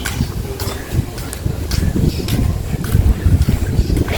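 Strong outdoor wind buffets the microphone in a continuous low rumble with irregular gusting surges, a loud rough roar filling the whole stretch.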